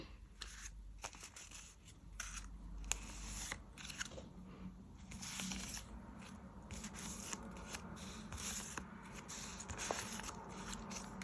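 Paper surprise packets being unpacked, with close, soft crinkling, rustling and tearing of paper in irregular bursts and no speech.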